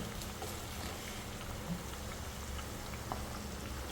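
Andhra-style pappu chekkalu, lentil crisps, frying in hot oil with a steady, quiet bubbling sizzle and a few faint pops, no talk over it.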